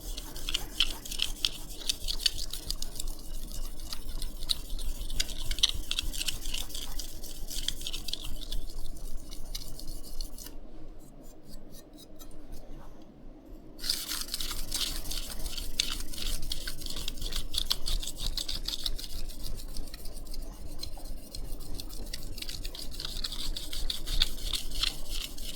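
A knife blade is worked over a fine 6000-grit whetstone, giving a steady, close, gritty scraping in repeated back-and-forth strokes, with a short pause partway through.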